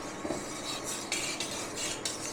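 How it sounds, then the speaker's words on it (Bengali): A spoon stirring lemon juice into hot sugar syrup for gulab jamun, producing soft, close swishing strokes in a steady rhythm with faint metallic scrapes, and no one speaking. "আর এখানে লেবুটা আছে, লেবুটা দিয়ে দেবো। ভালো করে মিশিয়ে নেবো"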